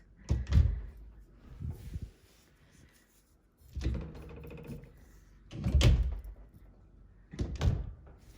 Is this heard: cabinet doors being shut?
yes